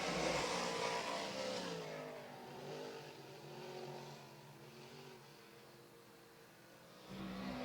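Dirt modified race cars roar around Mohawk International Raceway on the final lap, a loud continuous engine drone with rising and falling revs as the field passes, no talk over it.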